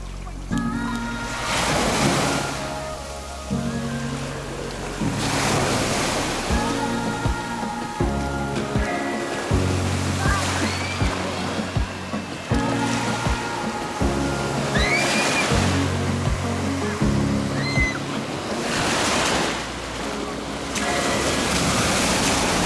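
Surf rolling onto the Azov Sea shore on the Taman peninsula, with repeated waves breaking and washing in at a steady rhythm, wind buffeting the microphone, and voices talking now and then over the water.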